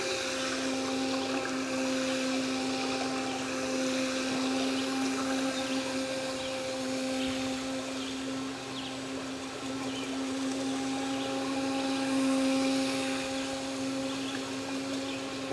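A Pro Boat Jet Jam RC jet boat, a sub-$100 pool racer, runs its motor wide open. It gives a loud, continuous high-pitched whine with a steady pitch and only slight swells throughout.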